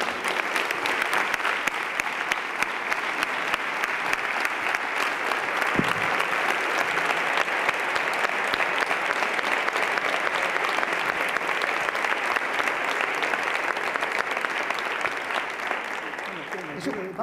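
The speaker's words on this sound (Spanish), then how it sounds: "¿Le pueden dar a ustedes ya un aplauso si quieren a Jesús?" Sustained, dense applause from a gala audience at a Seville Holy Week event, a steady roar of many hands that stays loud and even throughout, with faint voices underneath.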